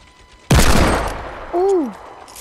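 A single loud gunshot blasts in the video game Fortnite, decaying over about a second, followed by a short rising-and-falling whistling tone.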